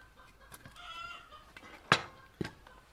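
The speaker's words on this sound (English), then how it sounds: "Sounds like that chicken is still going." A hen clucks after laying an egg, a few sharp squawks and clucks rising above faint background noise, with scattered gentler calls around them and no talk.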